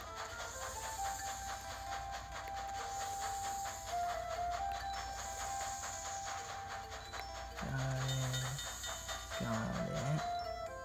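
Hissing, steam-like rumble of a moving train in The Legend of Zelda: Spirit Tracks, steady and fairly quiet with rhythmic clanks, plus two brief low tonal bursts near the end.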